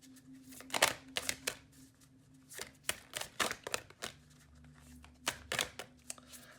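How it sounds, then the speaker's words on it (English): Tarot cards that tend to stick together being shuffled by hand, a string of short papery riffles and slaps in uneven bursts, close and fairly quiet. "These cards are really hard to shuffle because they stick together quite a bit."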